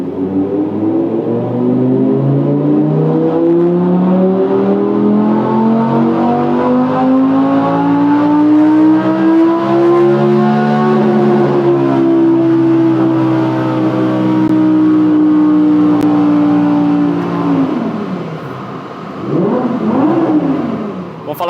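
An Audi R8 V10 in fourth gear and 4x4 mode revs to 8,700 rpm, its engine note rising in a long, loud, close howl, holding near the top, then dropping sharply and blipping again.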